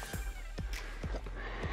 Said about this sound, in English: Now, Ridvan, when the horse goes giddy up, what do?